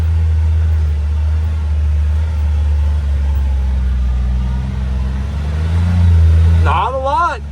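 A 2025 CFMOTO U10 PRO side-by-side working through a tight turn, its engine droning low and steady with a brief rise in revs near the end, heard from inside the cab with a voice speaking over it.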